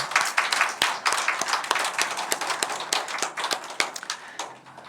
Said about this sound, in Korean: 우리 박수로 한번 환영할까요?